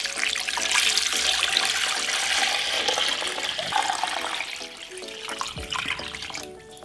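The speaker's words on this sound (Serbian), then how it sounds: "Sada u šerpu sipam hladnu vodu." Cold water from a tap pouring into a cooking pot, a loud gushing splash that fills the pot, then tapers off and stops near the end.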